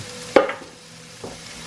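Food cooking in a pan on a home stove for a budget family dinner, with a soft sizzle under two brief utensil scrapes as it is stirred, the first louder, the second fainter about a second later; no one speaks.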